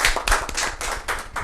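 Loud, dense audience applause welcoming the guest icon at a Rajasthan Parishad event, a continuous burst of many hands clapping close by with no talk over it.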